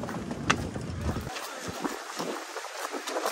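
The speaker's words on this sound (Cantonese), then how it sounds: "我哋搭翻船出去啦。" A small boat heads out to sea from a coastal campsite, with wind and water noise rushing past the microphone. A sharp knock sounds near the start, then the noise drops to a quieter, gusty wash.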